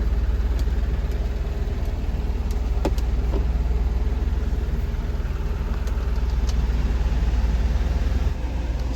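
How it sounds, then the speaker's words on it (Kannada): A Tata Nano car idling with its air-conditioning compressor running, a steady close engine hum and whir held at even loudness throughout, with no talking. "ಆಲ್ರೆಡಿ ಒಂದು ಅರ್ಧ ಗಂಟೆಯಿಂದ ಗಾಡಿ ಸ್ಟಾರ್ಟ್ ಎಲ್ಲ ಇದೆ"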